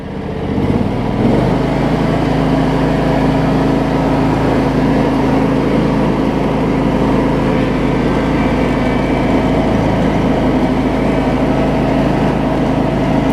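A John Deere X300 lawn tractor engine runs at raised throttle, a loud, steady, close drone with a strong low rumble that holds constant throughout, with no talking.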